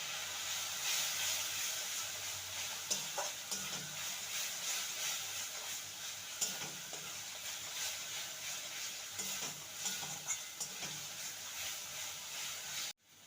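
Spices and chili powder are sautéed in a pan, giving a faint, steady hiss with occasional soft scraping as they are stirred, ending abruptly.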